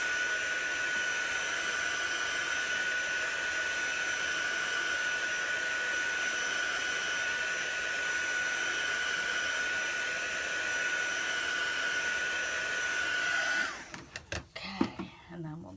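Hair dryer blowing on chalk paste, a loud, steady whooshing blast with a constant whine for about thirteen seconds, then switched off, leaving brief handling clatter.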